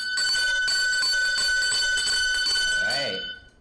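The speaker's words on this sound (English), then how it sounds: "Ring the bell. Ring the bell," A bell rings out repeatedly at an event to announce a prize winner, a steady bright ringing lasting a few seconds over crowd noise and voices before cutting off.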